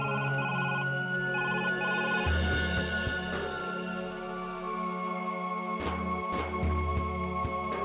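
A telephone rings after a number is dialed, in a repeating electronic pattern, loud and close, with a steady tone running underneath and no voices.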